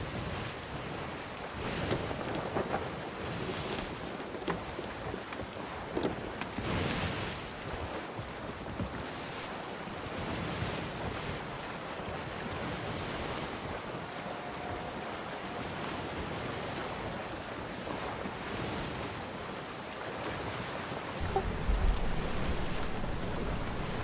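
Wind and ocean waves rush steadily around a sailing ship in the Sea of Thieves video game, a continuous broad roar of surf and gusts with a thump near the end, no speech.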